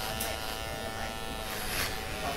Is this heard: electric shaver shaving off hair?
yes